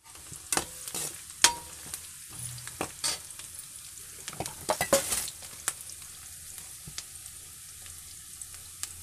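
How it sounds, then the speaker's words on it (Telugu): Sliced bitter gourd fries in plenty of oil with a loud, steady sizzle. Repeated sharp scrapes and clatters of a spatula stirring against the pan come through, and nobody speaks. "కొంచెం ఎక్కువ వేసుకుంటే బాగా వేగుతాయి కాకరకాయలు"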